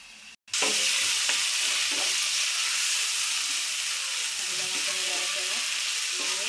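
Spiced masala for a pangas fish curry fries in a pan with a loud, steady, close sizzle and occasional stirring scrapes that run unbroken after a brief opening gap.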